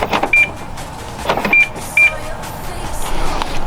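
A 2013 BMW E93 335i convertible is locked and its power windows close, giving short whirring motor bursts with faint chirps between them, heard close up with no talk.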